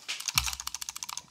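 Quick computer clicks and key taps patter in a fast, uneven run, each sharp and close, with one heavier thump near the start.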